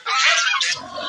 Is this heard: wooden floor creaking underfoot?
no